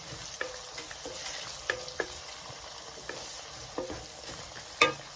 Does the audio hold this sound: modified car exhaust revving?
no